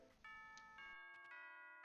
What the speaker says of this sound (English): Oh, that's the school bell.